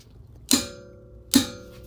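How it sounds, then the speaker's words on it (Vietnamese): Two sharp clicks from a torque wrench tightening a car brake bolt during a brake pad change, spaced under a second apart, crisp and close with a short ringing tail over quiet background. "Khi mà các bạn nghe tiếng click á là các bạn biết các bạn siết đúng lực."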